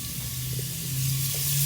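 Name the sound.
shallots and garlic sizzling in a pan for mushroom gravy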